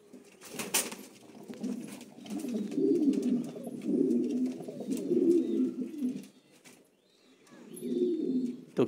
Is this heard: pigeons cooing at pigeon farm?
yes